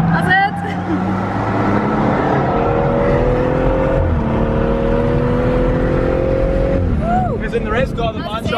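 A BMW brakes hard and slides into an outside drift on a track, with sustained tyre squeal and engine noise that stay loud throughout while people talk excitedly over it.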